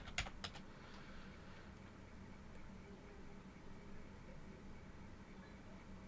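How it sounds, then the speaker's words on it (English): A few quick keystrokes clatter at the start as someone types into a search bar on a computer keyboard, then fade into a steady low background hum. "I feel dirty typing it in on the search bar"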